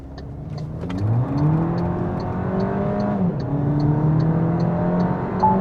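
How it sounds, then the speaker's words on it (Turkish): A 2025 MG7 Fastback with a factory exhaust, in super sport mode, accelerates hard from a standstill in a 0-100 km/h run, its loud engine rising steadily in pitch through gear changes, heard from inside the cabin. "Hemen şöyle bir 0-100 testi yapmak istiyorum."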